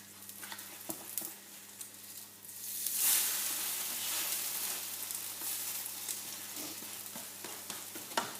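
A crêpe sizzles in a hot pan, a steady close frying hiss with a louder burst partway through as it is flipped, plus light scraping and tapping.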